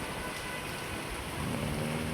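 Heavy rain pours steadily outside a balcony, a dense, continuous hiss that stays loud and even throughout with no voices.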